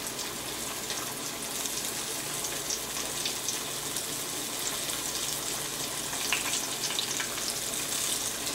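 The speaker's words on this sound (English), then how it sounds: "You want to fry the fish until they are nice and golden brown." Fish fry in about one and a half cups of hot vegetable oil in a pot over medium heat: a steady, dense sizzle with crackling pops throughout, close and loud, with no voices.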